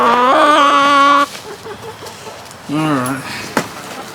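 Hens cluck and squawk in two bursts close by, separated by a short pause with soft background noise.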